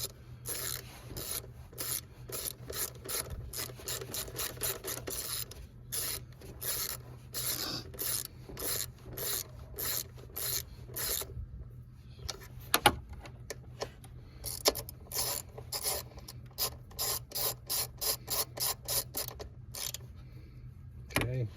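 A ratchet clicks in quick bursts while snugging down bolts on a 2021 Chevy Suburban water pump, repeated short rasping runs separated by pauses, close and fairly quiet, with a metallic knock midway.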